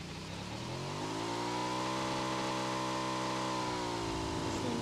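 A car engine in a video game revs steadily, its rising tone holding loud and continuous with no voices over it.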